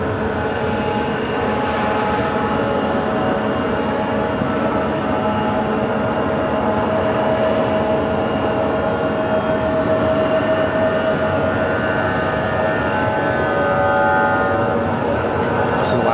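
An Alaska Airlines Boeing 737-900ER arriving at PHX from Seattle makes a loud, sustained jet roar and whine that holds steady throughout, with no voices.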